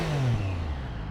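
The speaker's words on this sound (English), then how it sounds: "it's got an inline 3 engine, which you can probably hear" An inline three-cylinder motorcycle engine drones past, its pitch sliding downward smoothly as it recedes, a brief continuous hum with no voices.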